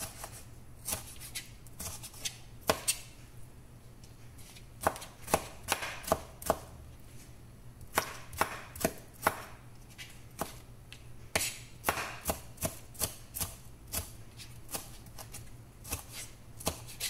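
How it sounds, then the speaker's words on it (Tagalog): A knife chops a tomato into small pieces on a board: a close, irregular run of sharp knocks, some in quick bursts, with no voices. "Hiwain natin ng maliliit para madaling maluto."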